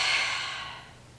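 A single deep breath out during a yoga core stretch, a soft airy rush that starts strong and fades away over about a second, close and alone.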